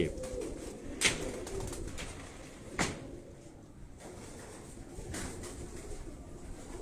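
Soft, low pigeon coos rise and fall in the background on a rooftop in Karachi, with occasional faint knocks and rustling around them.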